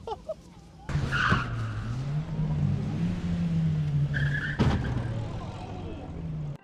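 A car skids during a real-life game of car football, a sustained tyre scrub and engine drone running for several seconds with a sharper squeal burst near the end, heard mid-distance with faint crowd noise.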